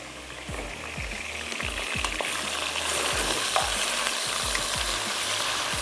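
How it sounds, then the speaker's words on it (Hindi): Food sautéing in a pan, steady broadband sizzle with repeated low scraping stir strokes throughout, close and fairly loud, no voices. "हल्का सा सौते करते हैं बस"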